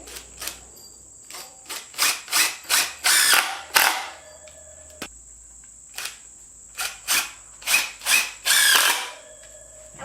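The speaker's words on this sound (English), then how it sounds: "Grab the other drill with the screw." Power drill driving a screw into a wood board while building a rabbit hutch, in repeated short whirring bursts of rising and falling speed, close and loud, with brief pauses between runs.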